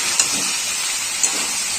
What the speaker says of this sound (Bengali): আর টমেটোটা আমি দিয়ে দিলাম।